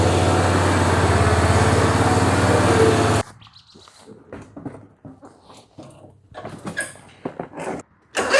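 A riding lawn mower engine runs at a steady, loud, close idle for about three seconds, then stops abruptly, leaving quieter scattered clicks and rustles.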